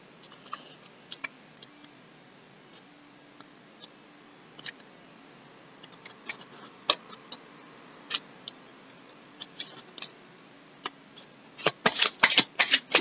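Tarot cards are shuffled by hand for a full moon reading, sparse soft snaps and riffles that grow quicker and louder toward the end, close and alone without talk.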